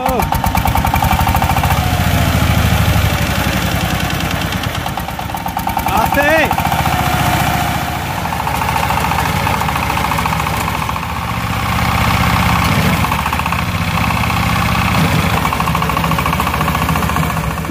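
Sigma power tiller engine starting up and running steadily, a loud continuous mid-range chugging with knocking vibration, with people talking over it.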